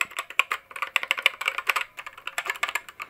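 Rapid clicky keystrokes on a budget mechanical gaming keyboard, a dense uneven patter of sharp taps close by with no voices.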